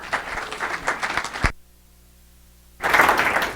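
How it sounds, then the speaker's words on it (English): An audience at a small business-pitch event claps in two bursts of applause, broken by a short quiet gap, moderately loud and close, with no talking over it. "Give her a round of applause."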